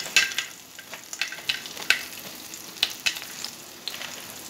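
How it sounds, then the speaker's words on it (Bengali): Vegetables fry with peanuts in a pan, giving a steady close sizzle with sharp spattering pops and a few clinking stir strokes, and no talk. "সবজিটা যেই ভাজা ভাজা হয়ে এসছে, এইবারে আমি দিয়ে দেব মাঝখানে সামান্য চীনাবাদাম"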